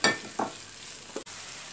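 A soft, steady sizzle of meat and onions sautéing in oil in a hot pan, with a few brief stirring scrapes and clatters breaking through near the start and middle.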